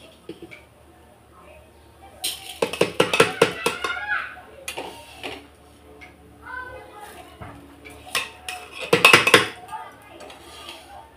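Roasted broken wheat tipped from a pan into a pressure cooker in a home kitchen, giving a run of loud metallic clatters and scraping bursts, with quieter clinks between them and a second cluster of clanks near the end.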